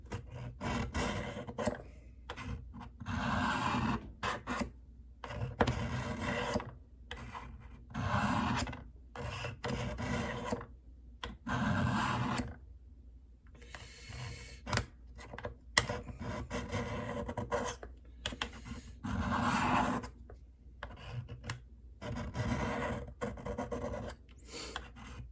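Coarse stones of a Spyderco Tri-Angle Sharpmaker rasp against the blade of a Buck Bantam knife in a steady series of repeated strokes, each a short scraping pass separated by brief pauses, fairly close and continuous with no talking.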